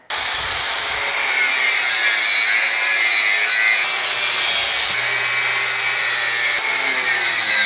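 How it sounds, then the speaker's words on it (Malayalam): An electric cutter slicing through a hard kamandalu fruit shell makes a loud, continuous high-pitched grinding and rasping whine that holds steady throughout. "ഇത് ഇലക്ട്രിക് കട്ടർ വെച്ചിട്ട് കട്ട് ചെയ്യുന്ന"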